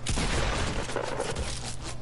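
Shotgun blasts in a video game: a quick burst of sharp bangs and booms, moderately loud, with scraping in-game action around them.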